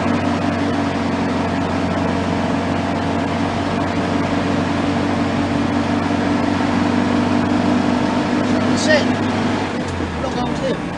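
A Vauxhall Victor FB car engine pulls uphill in a low gear, a steady, loud drone with a persistent low hum running unbroken throughout, and a voice talks over it.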